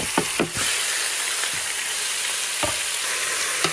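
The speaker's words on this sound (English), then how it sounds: "What a fantastic sizzle. It was cooking as if I was on the stovetop." Around four pounds of chicken sears in the pot of a Ninja Foodi 8-in-1 PossibleCooker PRO, a loud steady crackling sizzle filling the clip, with a few soft scraping stirs and utensil knocks over it and no speech.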